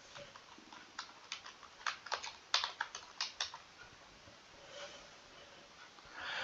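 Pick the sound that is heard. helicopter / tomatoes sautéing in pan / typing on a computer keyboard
typing on a computer keyboard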